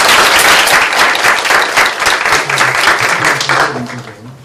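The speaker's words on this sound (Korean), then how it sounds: "여러분 박수 부탁드립니다" Sustained applause from a crowd at a talk concert, dense clapping throughout that holds steady and then begins to thin slightly toward the end.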